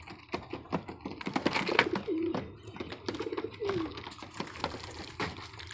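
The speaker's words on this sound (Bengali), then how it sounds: "এই যে কিছু উপরেও কবুতর উঠতেছে" Pigeons coo in soft, repeated rolling phrases close by, mixed with light scratching, pecking and fluttering from a group of birds.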